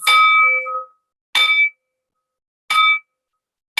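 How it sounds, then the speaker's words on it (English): A cup struck three times gives a bright, bell-like ring, each strike clear and ringing briefly before fading, with pauses between. "if I strike this cup on this one, you're going to hear a bell-like sound"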